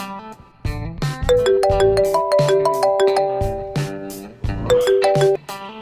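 A loud, melodic phone ringtone plays a bright repeating tune in bursts, with brief pauses between phrases.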